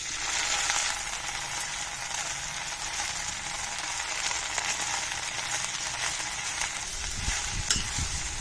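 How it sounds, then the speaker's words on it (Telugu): Gongura leaves sizzling in hot oil in a kadai, a steady dense crackle that runs unbroken and fairly loud for the whole stretch, with a few stirring scrapes near the end and no voices. "ఇప్పుడు కడాయిలో నూనె వేడెక్కింది. ఆకు వేస్తున్నాను, గోంగూర ఆకుని."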